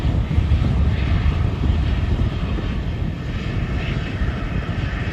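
An aircraft arrives at Manchester Airport in strong winds, its engines producing a loud, steady, low roar mixed with gusting wind noise throughout.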